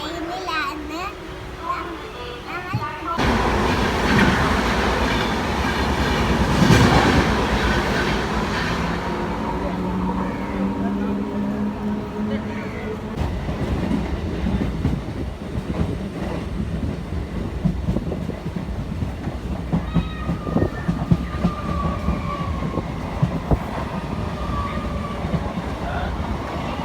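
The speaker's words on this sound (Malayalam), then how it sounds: "നമ്മളിപ്പോൾ ട്രെയിനിലാണ്" A passenger train rolls through near Guduvancheri in Chennai, heard from inside the carriage as a constant rumble with clattering wheels, under frequent talk and a voice.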